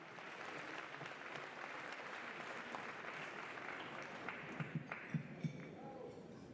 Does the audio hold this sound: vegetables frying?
no